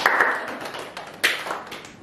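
Podcast hosts clapping their hands in a small room: a brief, moderately close burst of applause with a few sharper slaps standing out near the end.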